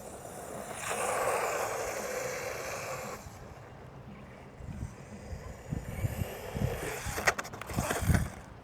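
A UDIRC Rageshark RC truck drives over dirt with a steady electric whine and gritty crunching that swells and fades, ending in a few sharp bumps and rattles up close.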